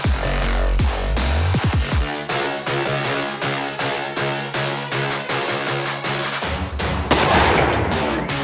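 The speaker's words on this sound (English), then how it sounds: "So we're going to go shoot 2 rounds in back to back into some gel." Federal HST rounds fired into ballistic gel at a range: a rapid series of loud, sharp gunshots, several in quick succession, then a brief pause and a final heavy report.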